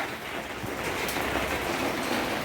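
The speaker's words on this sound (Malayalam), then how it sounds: "ഇവിടെ നല്ല മഴ പെയ്തുകൊണ്ടിരിക്കുന്നു" Heavy rain pours steadily outside a home in Kerala, a dense, even hiss of falling water that stays constant throughout with no voices.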